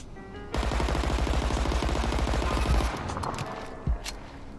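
A SIG submachine gun in the World War 3 video game fires one long rapid burst for about two seconds, then a few scattered shots and a sharp final crack.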